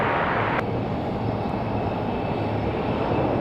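A Republic Airways airliner landing on runway 5 right at Raleigh-Durham International Airport on a windy day, a steady, loud, broadband engine and wind roar that holds constant throughout, heard alone.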